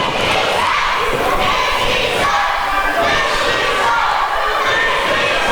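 A wrestling crowd roars and chants during a women's championship match, a loud, unbroken wall of massed voices and cheering that fills the whole stretch.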